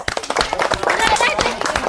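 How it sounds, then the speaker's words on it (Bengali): An audience claps for a contestant in a steel-ball game show, a quick burst of sharp hand claps mixed with voices close by. "তার জন্য একটু হাততালি"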